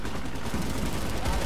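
Loud, continuous automatic gunfire fills a PlanetSide 2 battle on PS4, with rapid overlapping shots forming an unbroken clatter close by.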